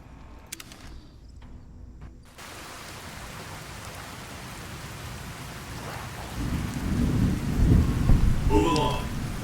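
Rain and rolling thunder from the video game Fallout: New Vegas: after a brief mechanical clatter, steady rainfall hisses while deep thunder builds louder toward the end.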